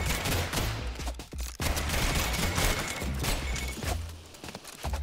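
Fast, dense bursts of video game gunfire, rapid overlapping shots and thumps in quick succession with brief gaps, fairly loud throughout.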